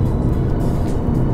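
Mercedes-Benz C 200 Avantgarde accelerating in sport mode, a steady loud engine roar heard from inside the car for a moment with no talk.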